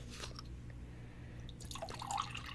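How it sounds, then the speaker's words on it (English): Bottled water is poured from a cup into the reservoir of a Keurig-style coffee maker that takes K-cups, giving a quiet, close trickle with scattered drips and a brighter splash near the end. "So then open the reservoir and carefully pour your water in it."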